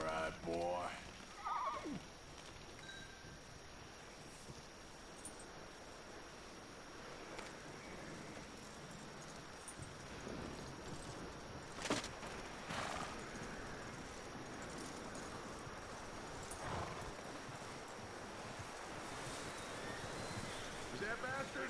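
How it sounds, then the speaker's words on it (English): Horse neighing with hooves clip-clopping in a video game, steady hoofbeats under a soft rustling ambience, with a voice talking at times over the sound. "That looks like a decent horse."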